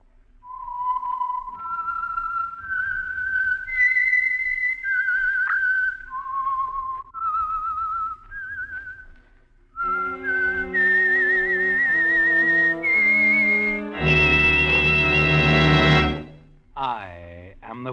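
Signature whistled tune identifying the Signal Oil radio program The Whistler, a solo melodic whistle rising and falling in steps, then joined by a swelling orchestral passage that builds loud before fading, with no talking.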